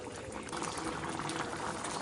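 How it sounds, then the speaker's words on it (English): Pot of chicken coq au vin at a boil, a steady dense bubbling and gurgling that runs evenly throughout, close and moderately loud. "Alright, I brought that to a nice boil."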